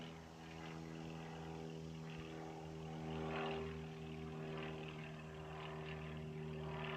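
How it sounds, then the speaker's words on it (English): An airplane passes overhead in a steady droning engine hum that swells a little in the middle and then holds, fairly distant, in an outdoor yard with no talking. "That's a freaking airplane."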